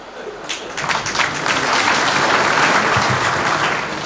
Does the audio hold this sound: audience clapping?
yes